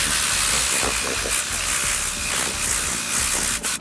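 An air blower tool blasts debris out of the carpet of a Camaro SS, a loud, steady rushing hiss that dips briefly near the end.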